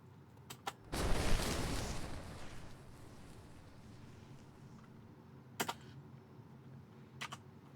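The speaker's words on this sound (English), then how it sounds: "And here's that combustion sound." A sudden loud, broadband explosive burst that rumbles and decays over a few seconds, followed by a couple of sharp, brief cracks, the combustion layer of a Halo 3 Warthog explosion sound effect.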